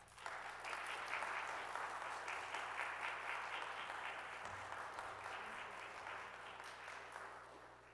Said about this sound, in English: Please give him a great big round of applause.